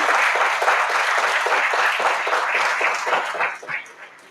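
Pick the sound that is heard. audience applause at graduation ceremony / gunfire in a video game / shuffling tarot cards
audience applause at graduation ceremony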